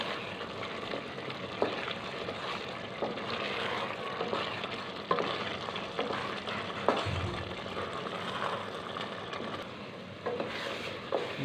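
Chana dal masala with softened tomato and onion being roasted in a pan with turmeric, coriander powder and garam masala: a continuous moderate sizzle broken by occasional scraping stirs, with no talking.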